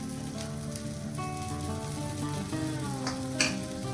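Masala dosa batter sizzling steadily in oil on a hot griddle, a continuous close crackle with background music running under it and no talking.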